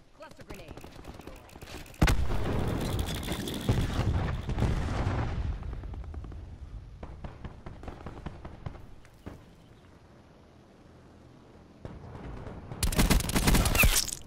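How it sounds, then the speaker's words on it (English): Loud, dense rolling blasts from cluster grenade explosions in Call of Duty Black Ops 4 team deathmatch, one long crackling burst that fades over several seconds, a quieter lull with scattered pops, then another heavy burst at the end. "Cluster grenade."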